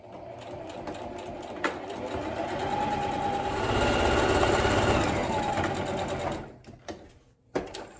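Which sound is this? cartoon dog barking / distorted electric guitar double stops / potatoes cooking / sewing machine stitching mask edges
sewing machine stitching mask edges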